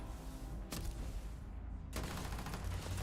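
Starfield gunfire erupts in two sharp bursts over constant low game rumble, with rapid shots cracking close by.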